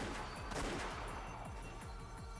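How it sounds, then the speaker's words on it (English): Rapid bursts of gunfire in the video game Umineko: Episode 7 repeat through the scene, dense and continuous, with a steady rhythmic thumping underneath. "I heard the sound of repeated gunfire"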